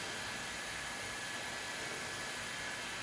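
A heat gun blows on a plastic part, producing a faint, steady airy hiss that continues unchanged throughout with no talking.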